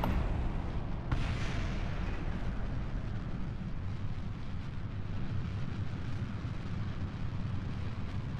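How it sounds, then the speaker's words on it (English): Intercontinental ballistic missiles launch in the space game Kerbal Space Program, giving off a loud continuous roar and rumble that swells sharply at the start and holds steady with no speech over it. "And there go our intercontinental ballistic missiles."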